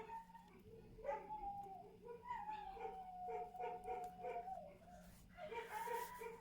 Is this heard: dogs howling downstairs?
yes